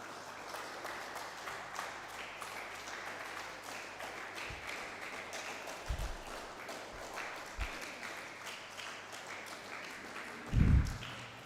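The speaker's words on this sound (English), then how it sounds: "Guys, can we have a round of applause" Applause at a maritime career summit as a guest is called to the dais to receive a memento, a steady wash of clapping from the audience that swells briefly near the end.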